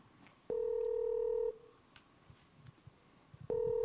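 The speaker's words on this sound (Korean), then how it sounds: "지금 이제 처장님께서 전화 연결 진행하고 계십니다." Telephone dialing tones: two loud, steady one-second beeps separated by a quiet pause, heard alone with faint background noise.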